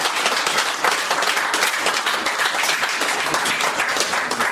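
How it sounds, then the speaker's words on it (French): Loud, sustained applause from an audience at an African women's day event, dense clapping continuing evenly throughout with no speech over it. "j'aimerais un tonnerre d'applaudissements pour cette grande dame"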